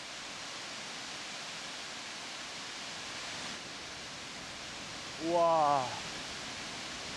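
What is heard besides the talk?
waterfall about 100 m high beside a road in Bhutan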